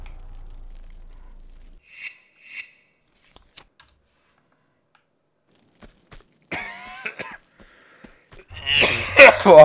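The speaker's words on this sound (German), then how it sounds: "Boah, dieser Husten da." Lara Croft coughs in Tomb Raider II, in the cave beneath the monastery: a few short, raspy coughing bursts, the loudest near the end, separated by quiet gaps and game sounds.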